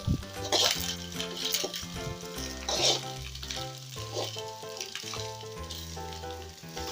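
Halved boiled eggs fry in hot oil for a Tamil egg curry, giving an uneven sizzle with occasional louder spits and pops, close by, while background music plays underneath.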